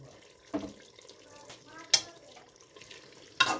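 Potatoes and chopped onion being stirred into beef in a pressure cooker pot, heard as a few soft scraping and sizzling strokes spaced apart, close and quiet.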